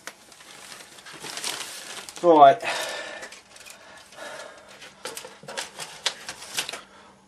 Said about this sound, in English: Just a second while I cut the bag open.